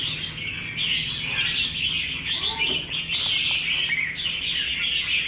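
A magpie robin (chích chòe) sings steadily up close in a continuous bright warbling stream, with a faint low hum underneath.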